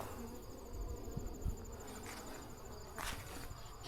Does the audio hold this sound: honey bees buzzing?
yes